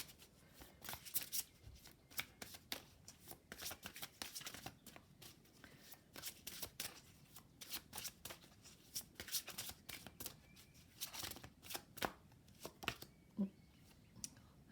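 A deck of fairy oracle cards is shuffled by hand in a quiet room, soft rhythmic riffling bursts repeating in short clusters, close and fairly faint.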